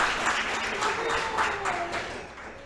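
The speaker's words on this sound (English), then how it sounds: "Another round of applause," Audience applause at a creative writing showcase, a steady wash of clapping at moderate level filling the whole stretch with slight swells, no clear voices over it.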